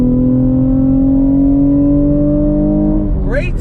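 A 2021 Chevrolet Camaro RS 1LE engine pulls under throttle, a loud steady drone rising gradually in pitch for about three seconds before easing off, with a brief rising whine at the end.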